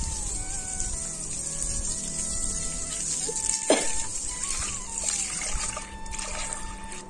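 Water is poured and splashes outdoors while puja items are washed, a steady trickle and patter running throughout with a brief sharper splash midway and faint background tones.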